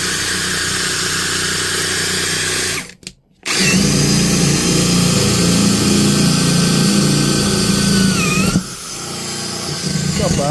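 A MELLIF cordless drill running at speed 2 in drill mode, a steady loud whir with a brief pause near the three-second mark, then continuing and dropping slightly in pitch before the end.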